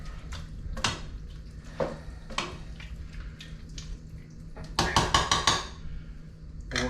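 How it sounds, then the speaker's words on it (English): A spoon stirs chili with kidney beans and tomato sauce in a pot at a truck camper setup, giving scattered metallic clinks and scrapes, then a quick cluster of rattling knocks against the pot, close and fairly quiet. "Let's give that a stir."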